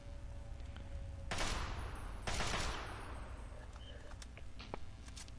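A few gunshots are fired at a super mutant in Fallout 3 in the metro tunnels, with two loud broadband bursts about a second apart over a low background rumble and faint scattered clicks afterward.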